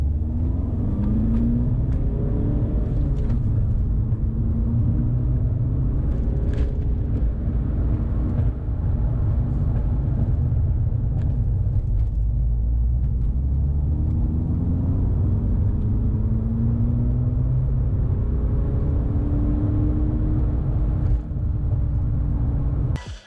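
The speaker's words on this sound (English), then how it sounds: "we've got to see what this car will do on the 30 to 70 sprint" A 2015 Audi TT 2.0L TDI accelerating hard through a 30 to 70 sprint, a deep diesel engine drone rising in pitch through several gear changes, heard from inside the cabin without talking.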